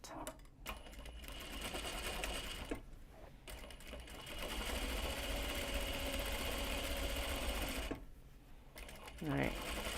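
A sewing machine stitches fabric for a knot bag, a close steady mechanical whirring run that stops briefly twice and restarts, with a faint voice near the end.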